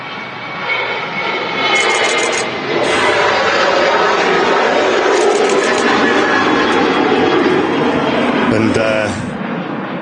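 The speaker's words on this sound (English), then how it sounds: "Yeah, Jet2 737 800. Heading out to Dalaman." Jet2 Boeing 737-800 taking off for Dalaman from Manchester Airport, a loud sustained jet engine roar that holds steady throughout with a broad rushing spread, heard from the ground with people talking over it.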